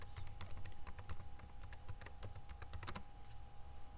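Quick, light keystrokes on a computer keyboard tap out a username and password in an irregular run of close, crisp clicks, with a faint steady tone humming underneath and no speech.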